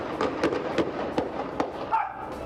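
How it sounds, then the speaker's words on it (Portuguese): Several sharp gunshots crack out during a police shootout with suspects in the Mãe Luísa community, about four or five irregular bangs that sound fairly distant and echoing over outdoor background noise. "Meu amigo, se contou aí cerca de 4 a 5 tiros aí"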